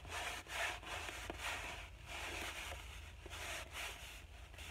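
A clean rag rubs Gamsol solvent off the varnished surface of an oil painting. The wiping makes a close, steady, scratchy swishing with rhythmic strokes and no talk.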